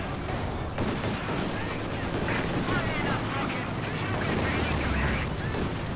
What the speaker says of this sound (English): We've got the IL-2 strafe coming in again.